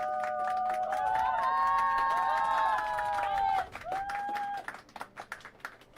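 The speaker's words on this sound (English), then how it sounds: "this is a round of applause" A crowd at a 10-ball pool quarterfinal applauds steadily for a young player, dense clapping with a few whistles and cheers filling the room before thinning out into scattered claps.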